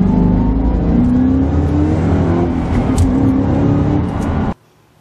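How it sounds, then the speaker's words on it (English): A supercharged all-aluminium 5-litre DOHC Boss V8 in an FPV GT FG Mark II revs loudly up close, its engine note climbing and holding before cutting off abruptly near the end. "Powered by the awesome all-aluminium 5-litre double overhead camshaft Boss V8, FPV has supercharged and modified it"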